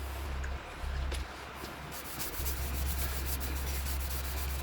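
Sanding an oak, cherry and ash cake stand made from offcuts, a steady close rubbing hiss that runs continuously with slight surges in intensity, with a low fan hum underneath.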